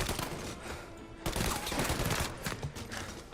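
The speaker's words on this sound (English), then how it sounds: "That Tommy gun, this Tommy gun is something nice" Rapid automatic Tommy gun fire in Mafia: Definitive Edition, dense crackling bursts that run nearly the whole time, loud and continuous with a sharper onset partway through.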